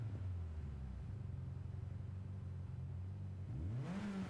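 Mitsubishi Lancer Evolution 8 rally car in Gran Turismo 7, its engine holding a steady mid-pitched drone at close range before the revs swing down and climb sharply again near the end, with no voices.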